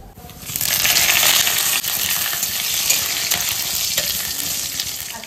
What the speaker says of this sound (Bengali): চিংড়ি মাছ ভাপায় ফোড়ন দেবো জিরে আর তেজপাতা।